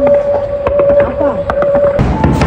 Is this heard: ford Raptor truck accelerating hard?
no